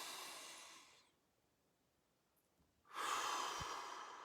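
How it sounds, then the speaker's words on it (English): A slow, deep breath is drawn in and let out: a soft, close airy rush, a quiet pause of nearly two seconds, then a second, stronger breathy exhale, with no talking. "Take a deep breath."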